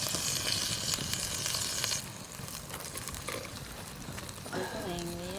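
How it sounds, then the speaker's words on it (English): A Cornish hen sizzles steadily inside a primitive rock oven at a bushcraft campsite, a dense crackling hiss that carries on, and a voice speaks briefly over it near the end. "There she is, Cornish hen, sizzling away in the oven."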